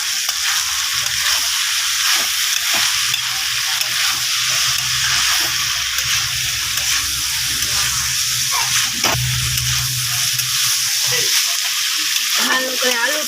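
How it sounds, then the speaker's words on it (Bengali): Soybean chunks and potato with cumin powder fry in oil, giving a steady, close, bright sizzle with occasional scraping stirs throughout and no talking. "সয়াবিনটাকে আমি ভালো করে কষিয়ে নিলাম।"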